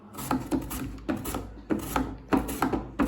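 Raw banana being sliced into thin chips on a handheld slicer, a repeated rasping, scraping stroke roughly every half second, close and fairly loud with no talking.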